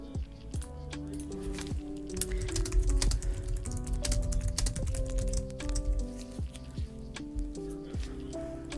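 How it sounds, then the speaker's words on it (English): Computer keyboard typing, a brisk run of close key clicks, heard beneath steady music. "I'm typing in chat just to"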